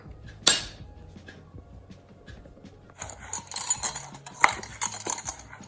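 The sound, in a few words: adding tablespoons of plain flour into a mug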